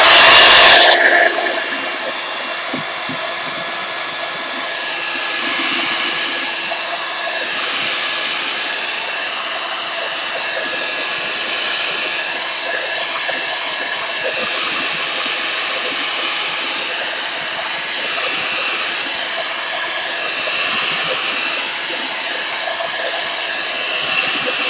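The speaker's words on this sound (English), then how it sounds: "Heat gun." A heat gun blows over distress oxide ink to dry it, a loud continuous whirring roar that starts abruptly and holds steady, slightly wavering, with no speech.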